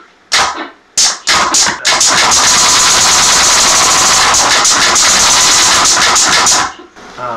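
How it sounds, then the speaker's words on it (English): Two solenoid valves release 80 psi compressed air through effects processing: a few sharp, violent bursts, then a long, loud, harsh rushing blast that cuts off abruptly. "This control box has two solenoid valves, which are basically, well, open and close, turn the air on and off at 80 psi."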